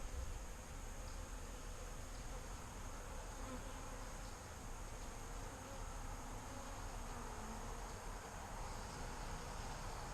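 Honeybees buzzing inside a hive with freshly drawn comb, a dense, continuous hum of many wings at close range, even and unbroken throughout with no talk.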